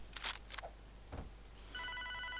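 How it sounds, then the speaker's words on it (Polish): A telephone rings with a steady electronic trill near the end, following a few brief clicks and thumps, in the video game Hotline Miami. "Dobra, mamy telefon. Odbierzmy go."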